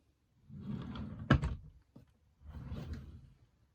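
Closet drawers sliding open and shut, two soft scraping glides with a sharp wooden thunk between them, close and quiet, with no voices.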